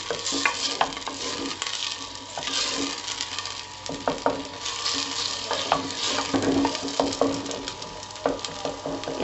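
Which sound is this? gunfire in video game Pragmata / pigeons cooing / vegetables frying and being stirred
vegetables frying and being stirred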